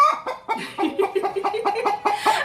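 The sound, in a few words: hen clucking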